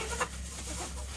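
Isa Brown hens cluck softly in a brief, faint burst, with a low steady background hum and no voices.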